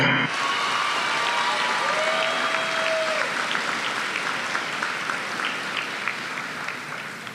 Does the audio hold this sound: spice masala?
no